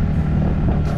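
An auto rickshaw engine runs with a steady, loud, low rumble close by, continuous throughout without talking.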